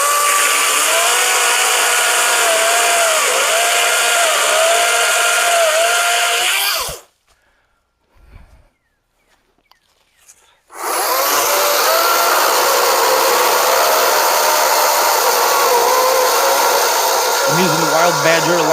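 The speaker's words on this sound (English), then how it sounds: "I'm using the wildbadger electric chainsaw." A Wildbadger electric chainsaw cuts through wood with a loud, steady high whine, running for several seconds, stopping briefly, then buzzing again near the microphone.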